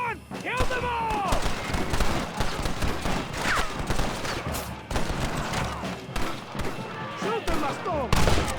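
Red Dead Redemption gunfight: rapid, dense volleys of rifle and pistol shots with heavy thuds, continuous and close, mixed with shouting voices throughout.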